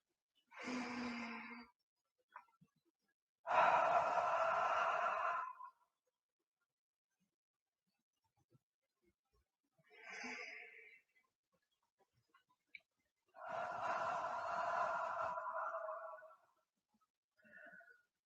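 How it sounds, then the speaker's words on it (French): Slow, deep breaths are taken in a quiet setting, with several long airy inhales and exhales separated by silent pauses, each breath soft and close. "prenez 3 grandes respirations"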